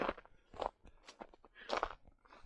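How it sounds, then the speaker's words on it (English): Footsteps crunch on frozen ground left crusty by freeze-thaw on a mountain descent, a steady run of close, gritty crunches in walking rhythm with no talking. "when I step on it, you know, it crunches down"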